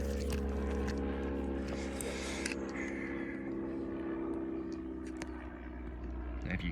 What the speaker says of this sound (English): oh, there's a plane overhead